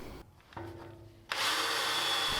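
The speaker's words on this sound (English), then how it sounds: "I'm going to finish drilling through all these holes with a little cutting oil." A power drill bores holes through aluminum composite panel for a camper floor, lubricated with cutting oil; a quieter whir first, then the bit bites in with a loud, steady, close grinding roar.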